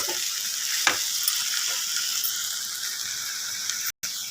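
Tender tamarind leaves and dried shrimp frying in a pan for a curry, a continuous close sizzle broken by scraping stirs, ending in a sudden brief dropout.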